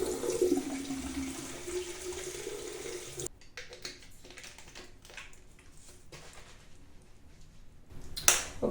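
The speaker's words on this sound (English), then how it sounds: "And then I'm going to put a little bit of water." Water running and splashing as it is poured into a container for mixing shampoo with water, a steady hiss that cuts off abruptly, followed by faint clicks and handling noises and a brief splash at the end.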